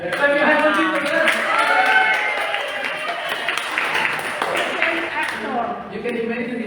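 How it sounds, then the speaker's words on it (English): A church congregation clapping hands during a Sunday sermon, steady applause-like patter mixed with voices and singing at moderate loudness, easing off near the end. "Clap your hands for Jesus."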